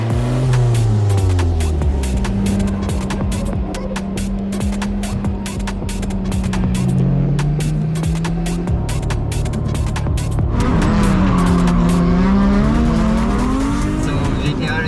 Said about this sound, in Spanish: Cómo el coche ruge